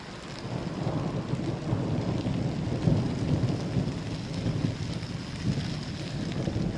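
Steady rain pours down in a thunderstorm on a forest trail in the Boundary Waters, with a low rumble of thunder rolling beneath the constant hiss and some wind buffeting the microphone.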